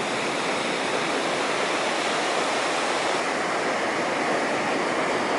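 Big waves of the grey Black Sea at Sochi break onto the shore on a sunny morning, a steady, unbroken roar of surf and white spray heard up close.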